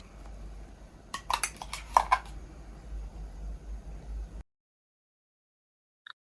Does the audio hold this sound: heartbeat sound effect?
no